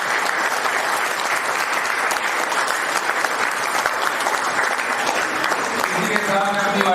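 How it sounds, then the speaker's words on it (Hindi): Sustained, dense applause from a large crowd fills the whole stretch, loud and steady without pause. "आइए आओ हम सब मिलकर तालियों की गड़गड़ाहट के साथ इनका स्वागत करें"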